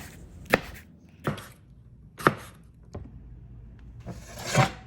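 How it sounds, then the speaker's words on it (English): A knife slices a tomato on a cutting board in a handful of separate, fairly close cuts, each a short crisp thud with pauses between, and no voices. "Now I'm going to cut this tomato into little slices."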